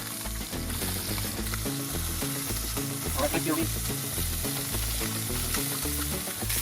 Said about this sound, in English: The fish have been searing for a couple minutes on the first side. We're gonna go ahead and flip them.